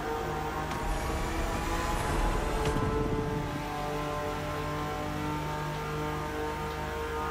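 A BMW M4 engine in the racing game Motorfest, a steady droning engine tone with layered harmonics holding at a constant pitch, with a brief louder swell early on and no talk.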